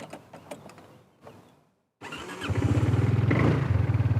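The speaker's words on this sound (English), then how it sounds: "I'm gonna start the engine." A motorcycle fitted with a smart alarm system is started after a few scattered clicks and handling noises and a brief pause: a burst of the starter, then the engine catching into a close, steady, throbbing idle.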